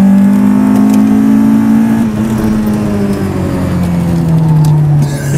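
A Volkswagen Golf GTI built from a wreck pulls uphill in third gear, its engine droning loud and close with a steady rising then slightly falling tone, strained and continuous throughout.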